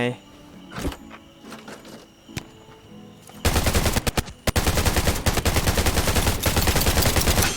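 Automatic AK rifle fire in the survival shooter Undawn erupts after quiet, scattered game noises and continues as a loud, dense rattle of rapid bursts, with brief breaks between strings of shots.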